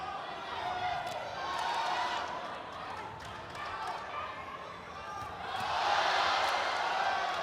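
An arena crowd at a kickboxing bout swells with rising oohs and reactions, a broad wash of voices that surges twice, under steady commentary.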